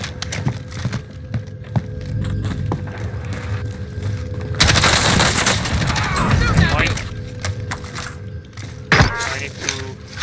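A video game gun fires in loud, booming bursts, with a long sustained volley in the middle and a sharp shot near the end, over background game noise and talk.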